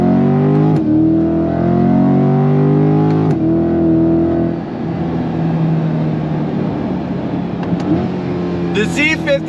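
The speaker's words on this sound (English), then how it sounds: "Love the sound of that V8 though." A 2026 Chevrolet C8 Corvette Z51 mid-engine V8 sports car droning from inside the cabin with rising engine pitch through gear changes, loud and steady, and a voice talking over it.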